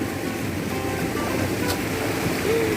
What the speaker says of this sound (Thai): โอ้ยมีเป่าน้ำด้วยนะแม่ว่าเป่าน้ำยังไง